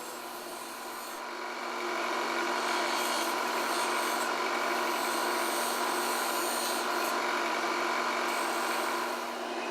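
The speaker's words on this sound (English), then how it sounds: "I'll use my detail gouge to turn the beads." A detail gouge turning wooden beads on a lathe gives a steady, close scraping and rasping hiss that builds after the first second and then holds level over the whirr of the lathe.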